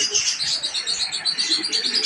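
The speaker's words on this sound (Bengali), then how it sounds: "আর পাখির চেঁচামেচি শব্দ খুব ভালো লাগছে" Dense, continuous chirping and chattering from many birds at a village bird market, with soft low cooing from pigeons mixed underneath, close by and steady throughout.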